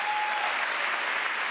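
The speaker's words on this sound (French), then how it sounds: "Oui, on peut les applaudir, ils sont vraiment fantastiques." A gala audience applauds in a large hall, a thick, even roar of many hands clapping steadily at moderate volume, with a faint thin tone lingering underneath at the start.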